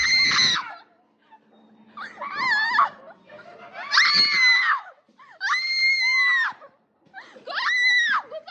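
Loud, high-pitched screams burst out in five separate bouts from people on a haunted house ride at Joyland Rawalpindi, each shriek lasting about a second with short quiet gaps between them.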